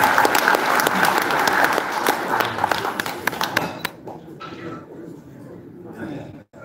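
Audience applause at the inauguration ceremony of the 19th president of the Korea Senior Citizens Association: a dense, loud burst of clapping for about four seconds, then thinning to scattered claps and quiet room noise.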